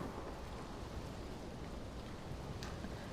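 Steady rain hisses and patters throughout a Dying Light 2 game scene, a dense wash of falling drops with no voices, fairly quiet and constant for a few seconds.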